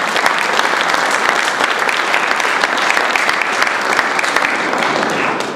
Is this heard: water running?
no